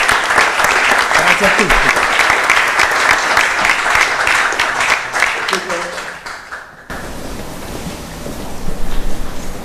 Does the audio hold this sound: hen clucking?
no